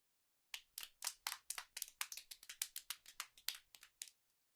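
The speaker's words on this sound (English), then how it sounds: "Dr. Nakabachi enters to sparse applause" Sparse, uneven applause from a small audience as an inventor enters, a few hands clapping in quick irregular bursts for about three and a half seconds before fading out.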